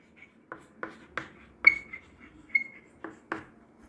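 A teacher writes on a board during a chemistry lesson, tapping and scratching in about eight short distinct strokes with small squeaks, close and fairly quiet with no talk.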